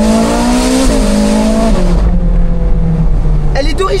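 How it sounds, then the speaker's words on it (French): A Ferrari Spider on its original factory exhaust roars loudly and close, the engine note climbing then dropping as revs fall away, with a brief burst of voices near the end. "Ça c'est l'échappement d'origine, les gars."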